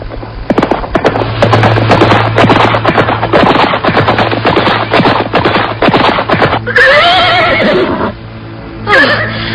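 Horses ride through the streets of Majapahit, with a dense rapid clatter of hooves filling most of the stretch, followed by two loud whinnies near the end.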